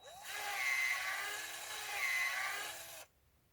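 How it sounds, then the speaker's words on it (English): Drill bit boring a tap hole into a maple tree trunk: a close, steady whine that swells twice over about three seconds, then cuts off abruptly, with no talk. "you just keep running your bit into the hole. stop for a moment, clean your sawdust out."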